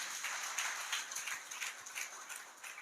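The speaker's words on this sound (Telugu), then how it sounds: "గట్టిగా చప్పట్లు కొట్టండి" Church congregation applauding together, a steady wash of many hands clapping at moderate distance for the whole stretch, without talk over it.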